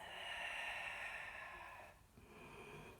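Soft breath exhaled during an intermediate Pilates exercise, a faint airy outflow lasting about two seconds, then quieter breathing.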